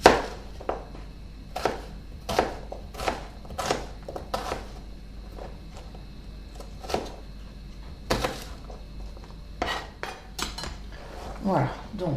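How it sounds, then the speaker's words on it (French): A peeled red onion cut into pieces with a knife on a board, a scattered series of crisp close knocks with a few faint clinks of kitchenware, fairly quiet, with little talk. "J'ai pelé mon oignon rouge. Puis je vais le couper en"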